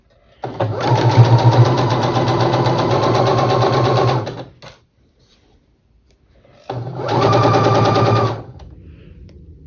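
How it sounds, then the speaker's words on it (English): A sewing machine stitches quilt block rows together with a quarter-inch seam, running in two rapid, loud mechanical bursts of about four and two and a half seconds, separated by a short quiet pause. "Now we're gonna sew those rows together with 1/4 inch seam."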